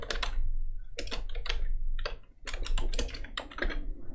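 Keys clatter on a computer keyboard as a Photoshop layer name is typed, quick bursts of close clicks with short pauses between words, nothing else heard.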